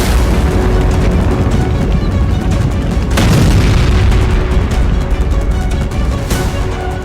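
Russian drone and missile strikes on Ukraine produce a dense, loud, continuous rumble of explosions, with two sharp blasts standing out near the middle and end.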